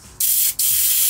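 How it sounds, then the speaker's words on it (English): An airbrush sprays mixed paint in two close, loud bursts of steady hiss, separated by a brief pause, with no voices. "And then I'm gonna spray this now."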